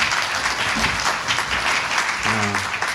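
Steady applause from an audience at a YMCA centennial lecture, dense clapping filling the space throughout, with a brief low voice or tone near the end.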